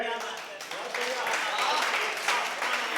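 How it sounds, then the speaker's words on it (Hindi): Applause from the audience at an international kavi sammelan mushaira in Ludhiana, Punjab, a fairly thin, continuous patter of clapping with a voice talking over it throughout. "आपकी तालियां थोड़ी सी कमजोर है।"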